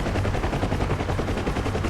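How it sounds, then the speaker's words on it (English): An explosive charge detonates in the DCS combat flight simulator, a loud, sustained crackling roar of blast noise that fills the whole stretch without any voices. "And there's your explosion"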